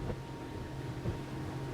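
Outboard engine of a Whittley CR 2600 boat running steadily at 5,000 revs, pushing along at 27–28 knots into a 15–20 knot breeze, a continuous low drone blended with wind and water noise.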